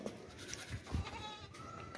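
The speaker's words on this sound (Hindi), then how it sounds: "ये देखें भाई, बहुत ही ज़बरदस्त बेहतरीन बकरा है माशाल्लाह से, साफ़ सुथरा सेहतमंद।" A healthy young male goat offered for sale as a 2024 Qurbani animal gives a short, faint bleat over a quiet outdoor background.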